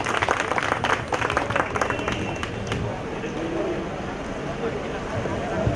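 A crowd at a group ceremony breaks into applause, a dense burst of clapping strongest over the first few seconds, then thinning into a softer murmur of hands and voices.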